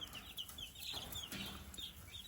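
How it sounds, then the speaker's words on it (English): A rooster gives soft clucks and brief squawks while being held and flipped onto his back, close by, with rustling and faint handling noise around the calls. "I do think he's a rooster."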